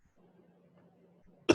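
A single sharp cough bursts out at the very end, close and loud, after a speaker's quiet hum and breathing.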